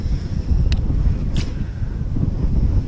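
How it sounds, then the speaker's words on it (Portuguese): Strong wind blowing beside a fishing kayak on open water, a loud continuous roar buffeting the microphone throughout, with no talk. "Impressionante esse vento."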